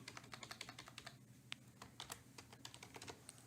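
Steady, fast typing on a computer keyboard, many crisp clicks in an irregular rhythm, close and fairly quiet with no voices present.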